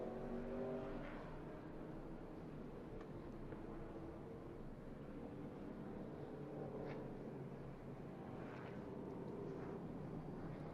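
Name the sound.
ARCA stock cars racing through the Sonoma hairpin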